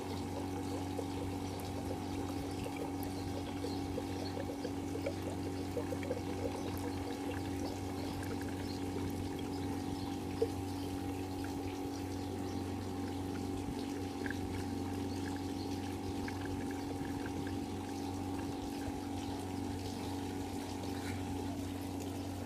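An aquarium pump with its supply turned down to make micro mist bubbles gives a steady low hum with a faint continuous watery fizz, unchanging throughout.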